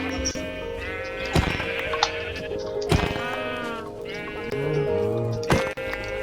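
Sheep in the game Minecraft bleat several times, loud and close, with wavering calls at irregular intervals over a faint background.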